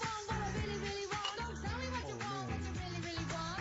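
A few seconds of a pop song play quietly as a cue in a song-guessing game, with a sung vocal melody over a rhythmic backing track.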